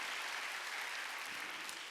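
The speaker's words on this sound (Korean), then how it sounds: "박수 치라 이게야." A church congregation at a Wednesday service claps hands together, a dense, even burst of many hands sounding from across a large room, steady for the whole moment with no voices over it.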